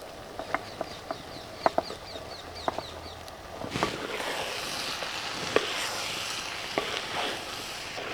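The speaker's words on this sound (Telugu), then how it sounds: "ఇప్పుడు బంగాళదుంపలు కూడా వేసేసుకుని బాగా కలుపుకుందామండి" Potatoes are stirred into a sizzling aloo bonda stuffing in a pan, with a spoon scraping and tapping the metal in scattered clicks over a soft, steady frying hiss, close and fairly quiet.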